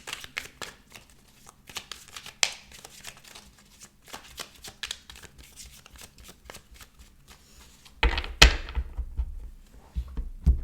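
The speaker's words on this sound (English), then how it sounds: "I'm going to dive straight in, shuffle the cards, and pull out the cards for you." Tarot cards shuffled by hand in a long run of soft, irregular riffling and sliding, close and fairly quiet, ending in a louder burst of handling and tapping as the deck is squared up.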